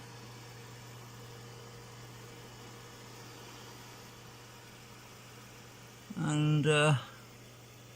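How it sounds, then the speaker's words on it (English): A steady low hum from a computer fan cooling hard drives inside an ASUS A8N32-SLI Deluxe machine runs throughout, close and constant, with a brief burst of talk near the end. "fan there is to cool the hard drives a little bit"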